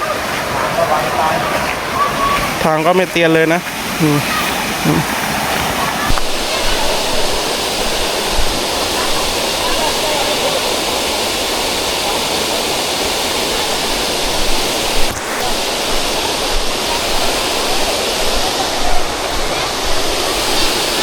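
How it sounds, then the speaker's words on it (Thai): Khlong Katha waterfall pours in a steady broadband rush, continuous and fairly loud throughout, with a person speaking briefly over the water early on. "โอ้น้ำตกเดินมานิดเดียวเองครับ"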